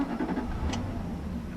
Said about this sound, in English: I really like the way the V8 sounds when it starts up